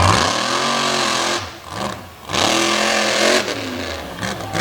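Big Chevy Buckshot monster truck engine at a Winchester monster truck event, revving loud and close with rising and falling pitch, dropping briefly before surging again, with no talk over it.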